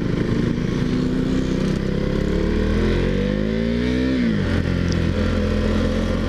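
A KTM Duke 390 motorcycle engine heard while riding, revs climbing steadily toward the rev limiter and then dropping sharply before holding a lower drone, loud and close with constant wind noise and no talk.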